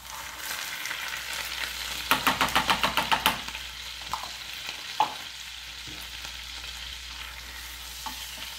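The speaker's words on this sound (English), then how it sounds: "And we are going to stir it constantly." Sour cream stirred into melted butter in a pan, a faint low sizzle under a quick run of about eight rhythmic scraping strokes, then a few isolated knocks of the utensil, no talking.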